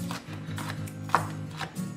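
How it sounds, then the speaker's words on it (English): A kitchen knife roughly chops raw shrimp on a cutting board, giving a series of quiet, fairly regular soft taps close by with a low background hum. "I'm gonna start roughly cutting this shrimp, not completely dicing, but just kind of making it manageable."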